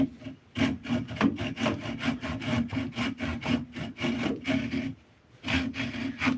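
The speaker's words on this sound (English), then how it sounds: "I just kind of chase the kerf with the little pole saw" A small pole saw cuts through wood along an existing kerf, rapid rasping strokes in a steady back-and-forth rhythm, close and loud, with one brief pause before the sawing resumes.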